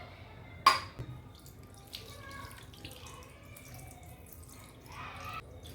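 Water is poured over a Ganesh idol during a home Vinayagar Chaturthi abhishekam, giving faint splashes and drips. A sharp metallic clink comes near the start, and the room is otherwise quiet.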